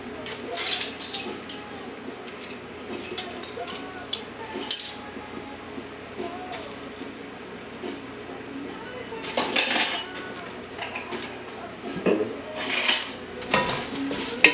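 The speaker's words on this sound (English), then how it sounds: "Give that a nice stir." A spoon clinks and scrapes in a pot while caramel apple empanada filling with vanilla is stirred, soft continuous scraping with scattered metallic taps, louder clatter near the end, and a person talking at times.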